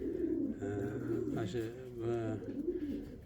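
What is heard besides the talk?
Uzbek pigeons cooing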